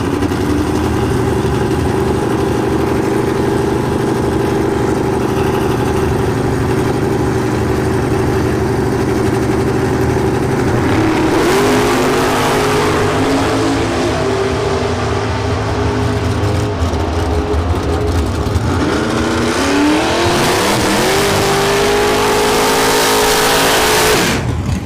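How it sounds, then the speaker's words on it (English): A C3 Corvette drag racing at an NHRA bracket event at a motorsports park: a loud engine revs and roars continuously, rising in pitch as the car launches and accelerates, with a second surge of revving near the end. "AJ is in the C3 Corvette then."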